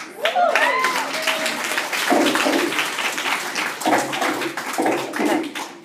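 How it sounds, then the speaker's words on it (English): Audience applause for a student poet at a high school event, a dense round of clapping lasting several seconds with bright voice-like tones and some cheering mixed in near the start. "please give a warm round of applause for Amanda, ladies and gentlemen"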